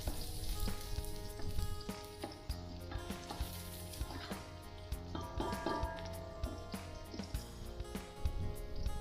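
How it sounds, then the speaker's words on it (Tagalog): Ginger sautéing in a pan for sinampalukang lechon, crackling in a continuous, fairly quiet sizzle with occasional light clinks of stirring, no one speaking. "So continue na po sa pagsusute hanggang lumabas po ang amoy ng ating"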